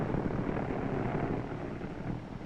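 Torpedo planes landing aboard an aircraft carrier deck, a continuous loud roar of aircraft engines and propellers with wind rush, steady and close, easing slightly near the end, no speech.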